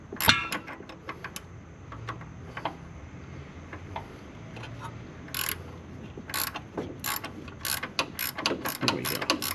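Ratchet tightening a shock absorber bolt on a car, with close, sharp ratcheting clicks arriving in quick runs and short pauses, growing denser toward the end.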